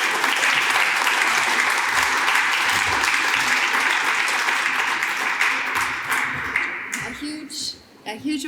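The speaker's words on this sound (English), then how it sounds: "A huge applause to our panelists." A conference audience applauding panelists at a symposium, dense steady clapping that fills the room, loud and continuous before tapering off near the end.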